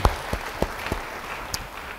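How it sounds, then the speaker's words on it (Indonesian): Sparse applause from a church congregation at a sermon, a handful of separate claps spaced out over a couple of seconds rather than a full ovation. "Setelah duduk baru beri tepuk tangan yang baik buat Tuhan."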